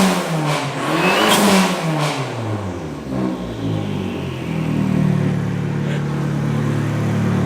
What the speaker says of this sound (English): I'll go up to the front of the car now so you can hear the blow-off valve.